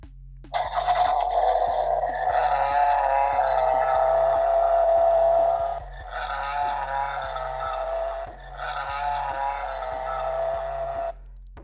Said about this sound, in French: c'est le son de l'accélération